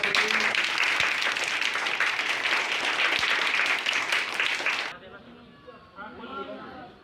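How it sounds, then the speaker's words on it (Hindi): Audience of schoolchildren at an energy conservation day event clapping loudly in a dense, continuous burst that stops abruptly, followed by quieter murmuring and a voice. "ताको जोरदार ताली मारबो तो"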